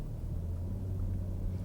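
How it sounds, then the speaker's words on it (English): A Lexus RX 450h hybrid SUV runs with a steady, quiet low rumble from its engine and drivetrain, heard from inside the cabin at an even level with no talking. "The engine is really quiet."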